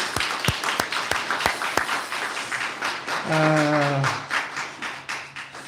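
A church congregation at a Sunday worship service claps in a short run of sharp, evenly spaced hand claps. The claps fade, and a voice then speaks.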